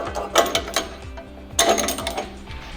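Muffler clamps are fitted onto the exhaust of a GM 6.6L truck, giving off two quick bursts of close metallic clicking and ratcheting over a low rhythmic mechanical whir.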